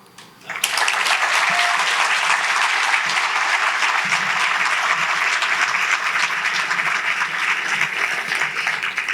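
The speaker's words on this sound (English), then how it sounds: "One more round of applause for Dr. Mary Ann Elliott" Audience applause at StoryFest 2026 for Dr. Mary Ann Elliott, a dense, steady roar of clapping that swells in after a quiet start and holds loud and sustained for the rest of the stretch.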